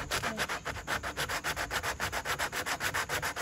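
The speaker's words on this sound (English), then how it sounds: "Again, this is just a sanding disc." A sanding disc is worked back and forth over a wooden dowel joint for a shelf, giving a steady, close, rhythmic rasping of roughly six strokes per second. There is no talking.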